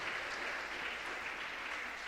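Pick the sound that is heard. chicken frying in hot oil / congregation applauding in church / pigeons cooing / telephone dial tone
congregation applauding in church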